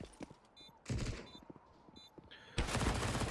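Rapid bursts of gunfire crack out in a Counter-Strike duel, with several short volleys and a sustained burst near the end, close and sharp.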